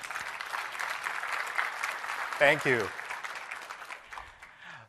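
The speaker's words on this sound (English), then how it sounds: "Can I get a clap?" Audience at a Microsoft technology conference session claps steadily in a room, a continuous patter of applause that a speaker briefly thanks mid-way before it tapers off.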